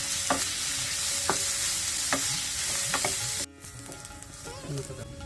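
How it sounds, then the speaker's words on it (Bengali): Chopped onions sizzle steadily in oil in a frying pan while a utensil scrapes and stirs them at intervals, with a close, continuous frying hiss throughout for a Bengali beef kala bhuna dish. "পেঁয়াজগুলোকে ভালো করে বাদামি করে ভেজে নেব"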